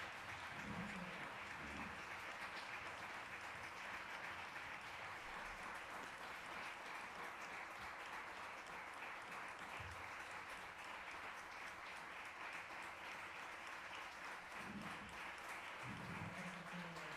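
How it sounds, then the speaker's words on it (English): Sustained applause fills a film festival press conference honoring a Donostia Award winner at San Sebastián, a dense, even clapping from the room that carries on unbroken for many seconds. "a big round of applause for our Donostia Award winner"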